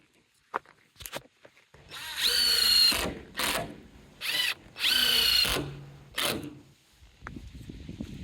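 A power drill drives screws into wood during off-grid cabin construction, with several short whirring bursts separated by pauses, close and fairly loud, and a few clicks and knocks between them.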